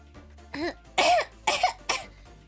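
Several harsh, wet coughs in quick succession, close up, with short pauses between bursts and no talking.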